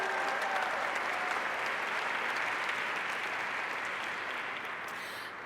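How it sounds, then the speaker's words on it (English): An audience applauds at a Tacoma Dr. MLK Jr. celebration: steady, dense clapping from a large crowd throughout, fading slightly toward the end. "Let's give them another round of applause for their work."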